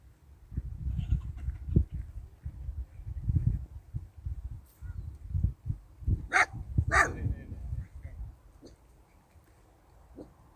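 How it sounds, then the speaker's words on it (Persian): A dog barks at a football stadium, with several sharp barks and a few yelps rising over a low rumble of outdoor background noise, fairly close and loud. "آوازی سگم بر اومد اینه."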